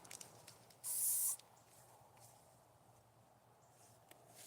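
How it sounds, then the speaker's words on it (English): A burst of aerosol insect repellent sprayed against mosquitoes outdoors in the woods, one loud hissing blast of about half a second, then quiet background. "All right, I got to spray again, guys. These dadgum skeeters"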